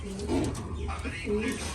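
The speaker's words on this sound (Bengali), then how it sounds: "একদম গড়ান তুরিবাজ বাজ পায়রা" Close, throaty cooing from tumbler pigeons at a pigeon sale, two swelling coo phrases rising and falling, with a voice talking over them.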